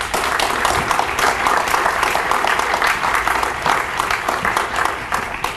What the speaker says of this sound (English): The crowd goes wild before I can even, do the introduction.